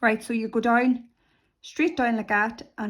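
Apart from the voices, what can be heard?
No everyday noises stand out.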